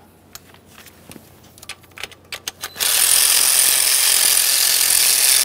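A ratchet working a 10mm nut loose on a 2011-2020 Toyota Sienna 3.5L V6 engine, a run of sharp mechanical clicks followed by a steady loud hiss-like rush.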